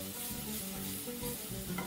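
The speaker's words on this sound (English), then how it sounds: "Proceed to cook your prawns or your shrimp rather until they're very, very cooked" Prawns cooking in a pot, a short burst of even, dense sizzling heard close and alone, with no voices.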